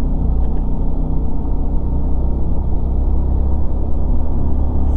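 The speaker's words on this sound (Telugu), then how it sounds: "బస్సు అయితే వస్తుంది" A Scania double-axle bus passes on a mountain road above a deep valley, its heavy engine giving a steady, loud low rumble throughout with no voices.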